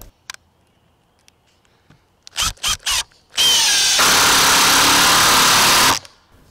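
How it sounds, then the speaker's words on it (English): Makita LXT XDT12Z impact driver on its second mode drives a screw: a few short trigger bursts, then a loud, sustained whirring run that turns into rapid impacting, close up. "the Makita actually started to impact almost three quarters of a way down"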